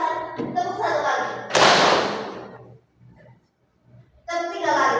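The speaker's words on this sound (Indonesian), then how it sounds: "Saya masih bilang tepuk 1 kali." Children in a public speaking class clap once together on command, giving one sharp loud burst that fades into near silence, with an adult speaking before and after it.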